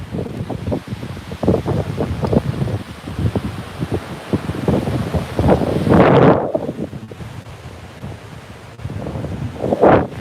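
Strong wind buffets the microphone on a beach at Dunbar, gusting loudly and unevenly with a roar that cuts out abruptly near the end, then rises again; surf may sit underneath.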